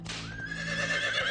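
A horse whinnies loudly and up close, a rising, trembling neigh that holds for over a second with no talk over it.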